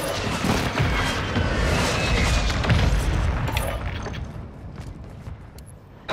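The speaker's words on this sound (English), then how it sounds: "Friendly airstrike in the AO." Airstrike explosions in a Call of Duty match, heard as a sustained, heavy rumbling roar of overlapping blasts that swells, stays loud, then slowly fades, with a sharp hit right at the end.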